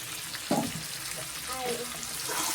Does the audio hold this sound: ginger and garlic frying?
yes